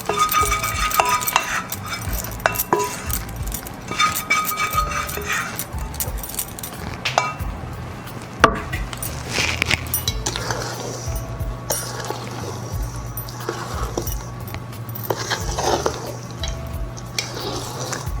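A spoon stirs a chocolate mixture into dry ingredients for vegan, gluten-free brownies in a bowl. It makes close, irregular scraping and clinking against the bowl, with soft mushy sounds from the batter, and no talk.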